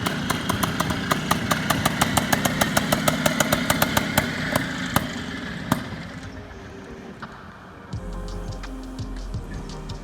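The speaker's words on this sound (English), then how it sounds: "He's riding this bike better than I could ride it." Dirt bike engine revving hard as it is ridden, a loud rapid run of sharp throttle bursts that settles into a lower, steadier idle-like rumble near the end.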